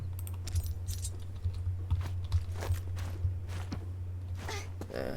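A computer mouse clicks in rapid, irregular bursts during a Naraka Blade Point game session, close and crisp over a steady low electrical hum and faint game sounds.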